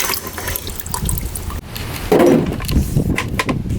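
Strong salt water poured from a container over trapped minnows, a short splashing pour in the middle rising over a quieter liquid trickle, close by with no talking.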